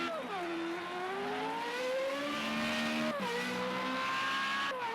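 A Formula Renault race car at Monza in Project CARS revs hard and climbs in pitch, with brief dips at gear changes. The engine whine stays loud and continuous, with no talking.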